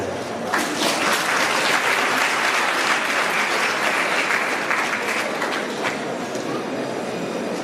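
A crowd at an anniversary gathering in Anyako gives loud, sustained applause that stays dense and even for several seconds before easing slightly toward the end.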